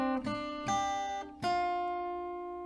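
Acoustic guitar picking out a short melody from a song, three plucked notes ringing clearly and sustaining close up, alone with no talk.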